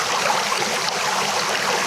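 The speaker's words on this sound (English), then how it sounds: "And the creek flattens out here and cascades down to where" A creek flattens out and cascades downward in a constant, dense rush of water, loud and close, with no pauses or talk.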